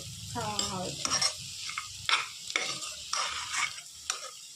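Food cooking in a pan on a low flame with a little oil, soft sizzling broken by repeated stirring scrapes and short clinks in an uneven rhythm, close and fairly quiet.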